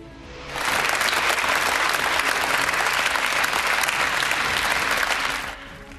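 Sustained applause from SNP members in parliament fills several seconds, dense and steady, swelling in quickly and fading near the end, with no talk over it.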